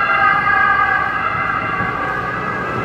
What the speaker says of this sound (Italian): Aspettiamo l'ambulanza